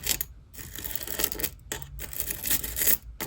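A homemade ASMR pot fidget toy being played, with bursts of bright rattling, jingling clicks separated by brief silences, close and crisp, with no talking.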